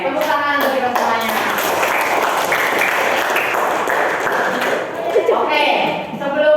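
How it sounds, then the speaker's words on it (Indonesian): A fifth-grade elementary class claps together in a steady, continuous burst of applause that fills the room, with children's voices calling out over the clapping. "tepuk tangan untuk kita semuanya"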